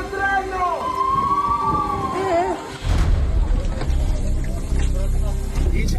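Ambulance sirens at a train crash scene, a wailing siren rising and falling in the first few seconds before being swamped by loud rumbling commotion and wind-like noise.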